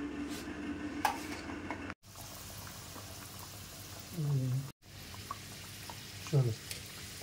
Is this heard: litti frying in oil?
yes